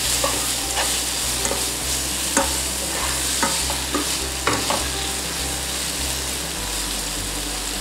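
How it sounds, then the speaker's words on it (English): Ginger and pepper stir-frying for Korean jjajangmyeon, a steady crackling sizzle under regular clacks of a utensil against the pan, close and fairly loud throughout. "Now add the ginger, pepper, and stir fry for another minute."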